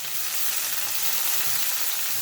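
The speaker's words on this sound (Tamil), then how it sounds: "ஒரு மீடியத்துக்கு தக்காளி 2, கருவேப்பிலை, இதெல்லாம் போட்டு நல்லா வதக்கலாம்" Shallots, tomatoes and curry leaves sauté in a pan with a continuous, even sizzling hiss at moderate volume, with no talking.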